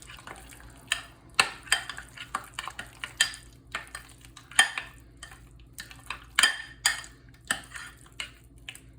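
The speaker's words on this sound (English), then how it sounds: "stir that up till it's thoroughly mixed" A utensil stirs blue cheese dip in a bowl, giving repeated close clinks and scrapes in an uneven rhythm over a quiet background.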